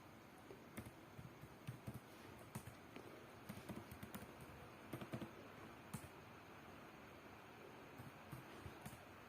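Someone types a name on a computer keyboard, quiet irregular clusters of clicky keystrokes near the mic over a faint room hum, with short pauses between bursts.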